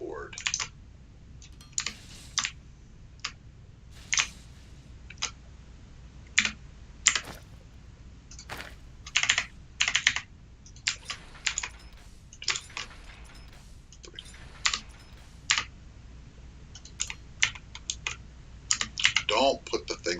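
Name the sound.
typing on a clicky computer keyboard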